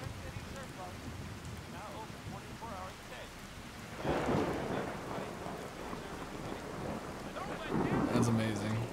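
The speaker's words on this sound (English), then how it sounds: "Wow, this storm is nuts." Heavy rain in a thunderstorm in Fallout 4, steady downpour with rumbling thunder swelling about midway and again near the end, a voice faintly under it.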